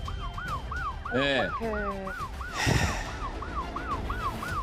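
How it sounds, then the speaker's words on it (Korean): Korean police patrol car in a chase, its wailing siren repeating in steady rising-falling sweeps throughout, loud and close, with a brief horn-like blare and a thud partway through and a short spoken word. "신고 차량을 처음 발견했던 순찰차가 끝까지 추적을 하는데요"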